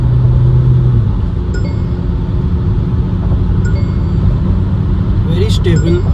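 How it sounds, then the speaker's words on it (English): A 2023 Mahindra Scorpio N Z8L diesel automatic accelerates hard under full kickdown near 120 km/h, heard from inside as a steady, loud engine drone and road rumble beneath continuous talking. "You can hear how loud the diesel gets. Full acceleration, full kickdown acceleration,"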